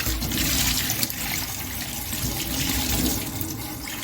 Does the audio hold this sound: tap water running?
yes